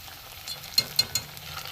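Pumpkin fritters (kumroni) sit frying in oil with a faint, quiet sizzle. A few light clicks from a utensil sound near the middle.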